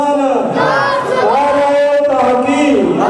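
A crowd chants religious slogans together in unison, a loud, sustained wave of many voices rising and falling across the whole stretch.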